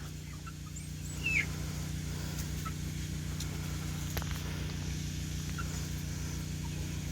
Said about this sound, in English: Got some chickens.